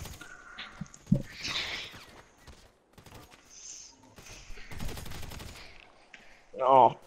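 Gunfire in GTA 5 Online, a few sharp shots fired through a wall, brief and fairly close, scattered between quieter moments with a player talking.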